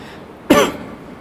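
A single sharp cough, close and loud, standing out briefly against a quiet room.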